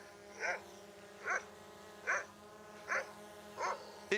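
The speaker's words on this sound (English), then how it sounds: "It flies around, herds the sheep, barking at them." A drone's loudspeaker plays a recorded dog barking to herd sheep, giving five evenly spaced, tinny barks about a second apart over a steady buzzing hum from the drone's rotors.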